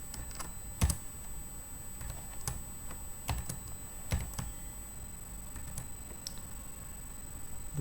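A password typed on a computer keyboard: a short run of close, crisp key clicks in uneven bursts with brief pauses, over a faint steady electronic whine.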